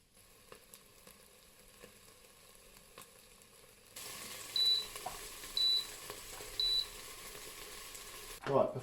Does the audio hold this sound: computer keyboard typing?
no